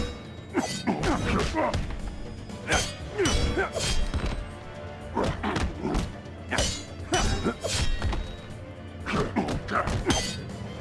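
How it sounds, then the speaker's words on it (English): Aquaman lands heavy attacks in Injustice: Gods Among Us on iOS, producing repeated crunching, shattering impacts and thuds in clusters, loud and punchy, with brief pauses between flurries. "Aquaman hitting for 1775 with a heavy attack"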